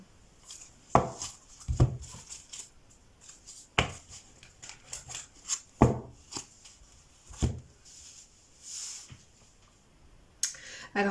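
A tarot deck cut and handled on a table: sharp card slaps and taps repeating every second or two, with soft shuffling rustles between, close and fairly quiet.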